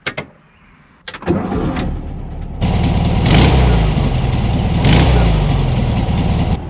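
A VW Beetle engine is cranked and catches after a couple of sharp clicks, then settles into a loud, gruff running rumble with two brief rev swells, recorded close up.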